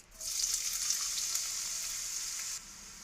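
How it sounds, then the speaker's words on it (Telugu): Chopped onions hit hot oil in a kadai and burst into a bright, steady sizzle that holds, then softens slightly near the end. "ఆయిల్ హీట్ అయిన తర్వాత వన్ కప్ ఆనియన్స్"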